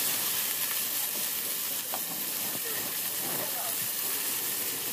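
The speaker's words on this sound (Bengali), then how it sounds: "কড়াইতে তেল দিয়ে এগুলো সব ভালো মতো ভেজে নেব।" Chopped vegetables including beans and pointed gourd frying in oil in a kadai, a steady, hissing sizzle with light stirring clicks, moderately quiet and continuous.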